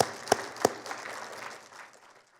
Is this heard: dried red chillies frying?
no